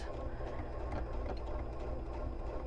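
A sewing machine stitches a foundation paper-pieced quilt block in a steady, rapid mechanical whir with a soft rhythmic chatter, continuous and fairly quiet throughout.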